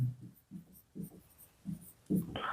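Chalk or a pen scratches out short strokes on a classroom board or paper in several separate bursts, close and moderately loud, with no talking.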